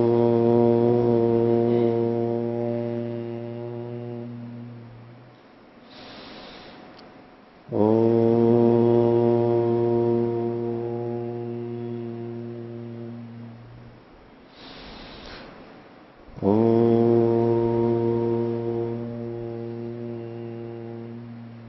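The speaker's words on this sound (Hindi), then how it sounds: "प्रणव ध्वनि।" Long chanted Om, the pranava sound, sung by a single steady voice in three sustained tones, each held for several seconds and fading slowly, with short breaths in the pauses between them.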